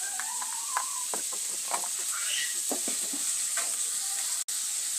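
Spice masala with turmeric, chilli and coriander powder sautés in a pan for a Siloba white tuna dish. A steady, fairly bright sizzle plays with soft stirring scrapes and small clicks, and a brief dropout comes near the end.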